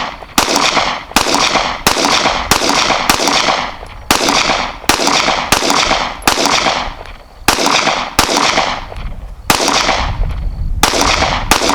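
Sig Sauer P320 X Compact pistol with a Romeo1 red-dot sight fires a rapid string of about fifteen loud, sharp shots close by, evenly paced with brief gaps and no talking.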